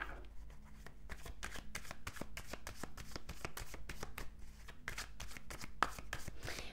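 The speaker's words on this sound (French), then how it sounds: "Je vais juste tirer quelques cartes du tarot." Tarot cards shuffled by hand in a steady, rapid flutter of papery riffles and slaps, close up and fairly quiet, continuing without pause and with no voice.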